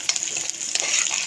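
Ingredients hitting hot oil in a biryani pot give a close, steady sizzle with faint scraping of stirring throughout the short moment.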